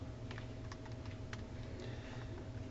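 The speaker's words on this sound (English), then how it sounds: "punch some keys on the calculator" Calculator keys pressed in a quick irregular run of faint little clicks over a low steady background hum, no talking.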